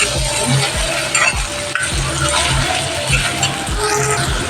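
Okra stir-fry with tomato and spices being stirred in a pan, a steady sizzle with repeated scraping strokes of a spoon against the metal, close and continuous, without talk.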